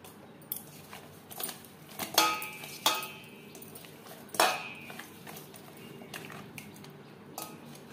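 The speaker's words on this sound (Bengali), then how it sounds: "মাছে বেশ ভালো করে মেখে নিয়েছি।" Four medium pabda fish are rubbed with turmeric and salt in a bowl, with faint scraping and a few sharp clinks against the dish at uneven intervals, close by and without talk.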